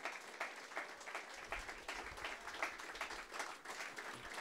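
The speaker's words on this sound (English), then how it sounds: "that wonderful applause." An audience applauds at an anniversary and 80th birthday celebration, a steady wash of clapping that stays fairly distant and quiet.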